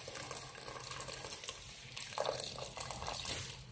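Cooked mutton and its cooking water being poured into a masala for a Kannur Thaliparamba-style biryani, a soft continuous splashing and trickling of liquid at close range with no talk.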